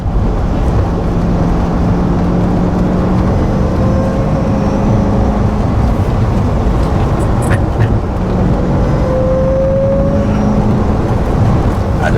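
A 2005–2006 Ford GT supercar drives on the road with a steady, loud roar of engine and road noise throughout, close and continuous, with no clear talking.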